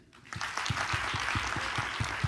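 Audience applause in a live comedy or talk-show setting, a steady burst of many hands clapping with regular strong claps standing out, continuing for a couple of seconds after a quiet start.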